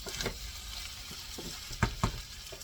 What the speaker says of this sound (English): See, my flour is browning on the bottom of my pan.